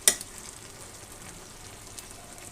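Shrimp and bottle gourd fry with salt in a pan over a high flame, giving a steady, soft sizzle after one sharp clink at the start.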